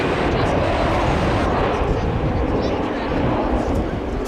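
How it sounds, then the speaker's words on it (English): An American Airlines jet arriving from Jackson, Mississippi roars steadily at Dallas/Fort Worth airport, a loud broadband engine rumble holding evenly throughout without a break. "From Jackson, Mississippi comes American flight."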